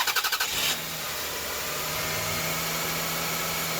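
A private seller's car cranks over in a short rapid burst, then catches and settles into a steady idle with a low engine hum and vibration, close by.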